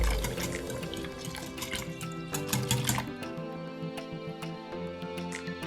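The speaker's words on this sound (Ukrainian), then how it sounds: "А тепер все, що накидали до миски, перемішуємо." Pancake batter of milk and other ingredients is whisked in a bowl, giving a continuous wet, sloshing churn with light clinks of the utensil against the bowl, close and fairly quiet.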